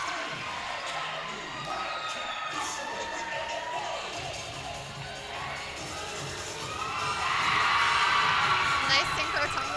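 At a cheerleading championship a large indoor crowd roars and whoops, holding a busy murmur of shouts before building to a louder, sustained cheer toward the end.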